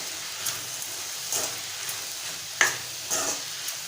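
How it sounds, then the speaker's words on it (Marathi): Ivy gourd is sautéed and stirred in a pan with turmeric and garam masala, a soft steady sizzle with a few scraping stir strokes and one sharper clink, close and quiet with no talking. "पाव चमचा गरम मसाला टाकूया आणि छान परतून घेऊया।"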